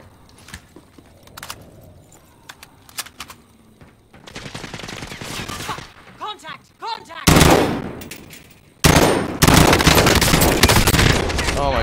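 Gunfire in Call of Duty Warzone during an intense late-match fight: scattered distant shots at first, then louder rapid bursts and heavy close fire toward the end, with players talking in between.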